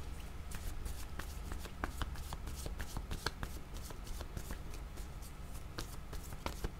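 Tarot cards shuffled by hand up close, a rapid stream of crisp flicking and riffling taps that runs evenly without a break.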